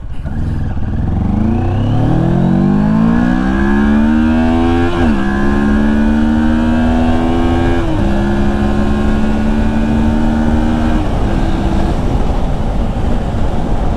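Moto Morini X-Cape 650 motorcycle engine revs up loudly and steadily through the gears, its pitch climbing and dropping at each of several shifts, heard close with continuous wind and road noise and no talking.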